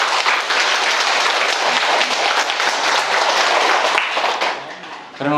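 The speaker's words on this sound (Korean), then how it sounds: "신부님 큰 박수로 맞아주시고요." An audience in a Korean Catholic lecture hall gives dense, steady applause to welcome a priest, continuous and loud for several seconds before trailing off as a voice returns briefly at the end.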